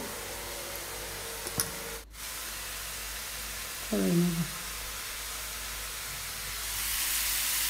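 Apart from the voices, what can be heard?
stir-frying boiled chow mein in a kadai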